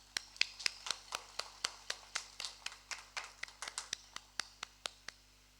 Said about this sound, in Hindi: चलिए, प्रभु यीशु मसीह के लिए हम लोग एक बार जोरदार अच्छा सा ताली बजा देंगे